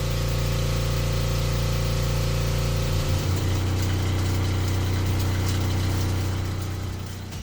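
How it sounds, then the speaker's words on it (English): Haas SB-28Y slant-bed lathe using live tooling on a BMT 65 turret to mill slots into steel: a loud, continuous machine hum with steady tonal drones that shift midway as the cut changes, running throughout. "we're going to use the live tooling on the BMT 65 turret, and we're going to mill some slots into this piece of steel"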